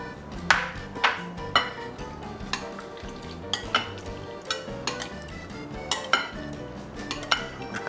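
Lime pork salad with chili and garlic being tossed in a dish: a spoon scrapes and clinks against the bowl in a steady, repeated rhythm, close by and fairly loud, with no talking.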